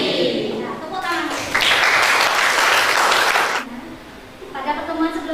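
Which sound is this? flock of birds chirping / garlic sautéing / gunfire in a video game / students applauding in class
students applauding in class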